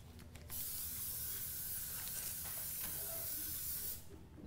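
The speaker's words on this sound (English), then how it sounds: "I've sprayed the pan now." A steady aerosol baking spray hisses continuously onto a pan for a few seconds, then cuts off. No voices are heard.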